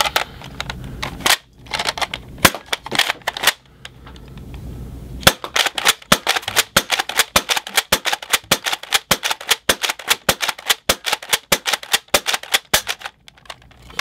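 A toy foam dart blaster fed from a magazine fires a long row of darts, a rapid train of sharp mechanical clacks and pops, sparse at first and then dense and rhythmic, loud and close with no talking.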